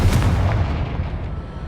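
A Confringo fire spell blast in the Hogwarts Legacy video game, one loud heavy boom with a deep rumbling body that fades over about a second and a half, close.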